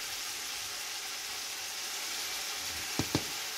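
About 2.5 tablespoons of Kashmiri chili powder sizzle in oil in a crab curry pan, giving a steady close frying hiss throughout, with two soft knocks near the end.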